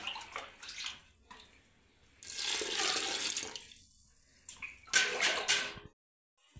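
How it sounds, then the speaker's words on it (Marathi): Fresh water is poured over wheat grains in a vessel for washing, giving loud splashing gushes in two main bursts separated by quieter stirring and clinks, with no talk. "आता मी अजून नवीन दुसरं पाणी टाकून घेणार आहे।"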